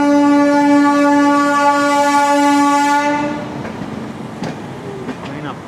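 A locomotive at Jhansi Junction sounds a loud, sustained horn blast of about three seconds, followed by rumbling and clanking train noise nearby at the station.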